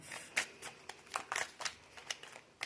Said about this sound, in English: we're going to do a pop-up shuffle